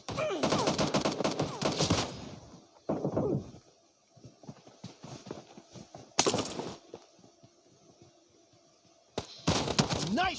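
Gunfire in the PUBG video game: bursts of rapid shots and heavy single cracks come in clusters, loud and close, with quieter gaps of distant pops and thuds between them.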